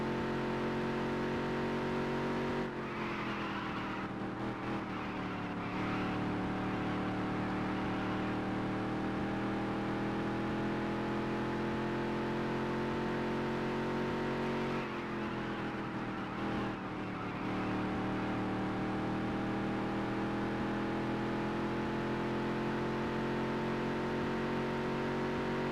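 A race car engine runs laps in the Dirt to Daytona racing game, a steady loud drone with rising and falling pitch as gears shift, continuous throughout with no talking.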